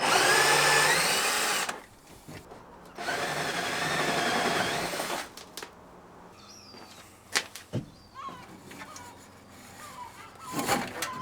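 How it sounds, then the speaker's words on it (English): A power drill spins a hole cutter up through the underside of a Volkswagen LT35 camper van floor, two loud whirring bursts separated by a pause, then scattered clanks and light handling noises. "I'll come through with a hole cutter from underneath"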